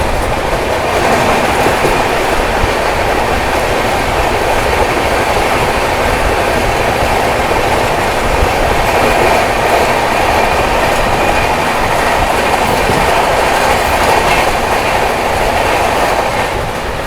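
The NZM–Pune AC Duronto Express runs at high speed on rails, producing a loud, continuous roar with rhythmic clickety-clack and a faint wheel squeal, heard steadily from close by with no talk.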